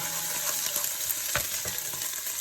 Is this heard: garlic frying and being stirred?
yes